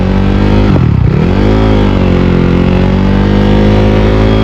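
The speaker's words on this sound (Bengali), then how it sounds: "সকাল সকাল আজকে বাইরে পড়লাম বাইক নিয়ে" A motorcycle engine runs loudly and close during a morning ride, a steady droning hum with a short dip and swell in revs early on before it settles back into an even tone.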